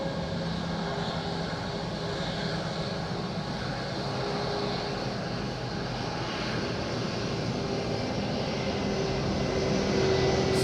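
An airplane on final approach to runway 09 at Madeira airport in strong, gusty wind gives a steady broadband engine roar with rushing wind noise, constant throughout and swelling slightly near the end, with no voices.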